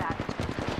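Rapid automatic gunfire from the Apex Legends shooter game, a quick burst of evenly spaced shots under the brief sound of someone's voice.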